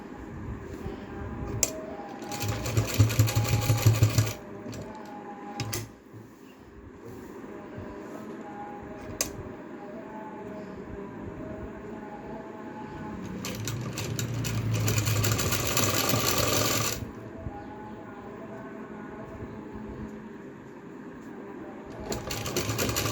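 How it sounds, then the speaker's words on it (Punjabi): A sewing machine stitches a V neckline on cotton fabric in two close, loud runs of rapid, even whirring. Quieter stretches between them hold small handling clicks and thumps, with no talking. "ਇਸ ਤਰ੍ਹਾਂ ਤੁਸੀਂ ਫਾਈਨਲ ਸਲਾਈ ਲਗਾ ਦੇਣੀ ਹੈ"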